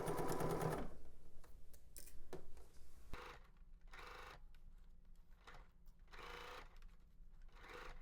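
A sewing machine stitches the neckband seam of a tank dress, running in short quiet bursts separated by pauses, the first burst the loudest, with no talking.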